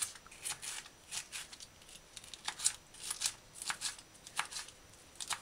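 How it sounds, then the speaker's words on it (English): A knife dices bell pepper on a cutting board with a quick, irregular series of crisp, close taps. The chopping is fairly faint and sounds on its own, with no talking. "Then kind of hold a few of them together and then dice bell pepper."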